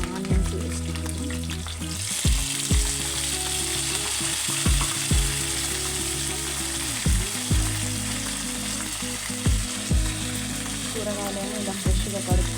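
Tomatoes and onions frying in a pan for vegetable sambar, a steady sizzle with broad hiss after the first two seconds, broken by repeated low knocks and scrapes of stirring.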